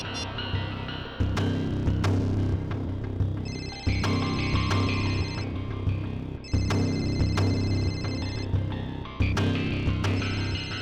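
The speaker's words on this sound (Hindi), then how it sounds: "और ये जो बेल बज रही है" A telephone rings in repeated bursts about every two and a half seconds, steady and fairly loud over a constant low hum.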